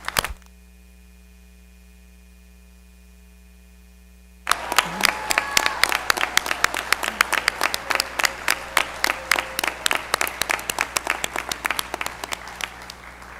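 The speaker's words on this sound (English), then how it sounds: "Will members of the audience please join me in one more round of applause for these graduates?" Commencement audience at a spring STEM college graduation breaks into loud, sustained applause for the graduates after a steady hum, with dense clapping that thins into scattered, distinct claps toward the end.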